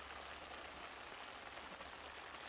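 Rain falls steadily on a rural duck farm, an even hiss of drops on surfaces with no voices.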